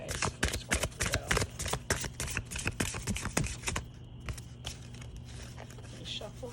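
Tarot cards are shuffled in quick, crisp riffling bursts for a few seconds, close and clear, then things settle into quieter rustling with a soft voice underneath.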